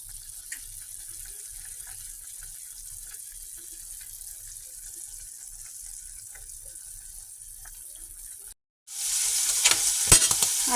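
Hamburger meat fries in a pan with a steady, close sizzle. After a brief drop-out, a louder, brighter burst of sizzling and spattering follows.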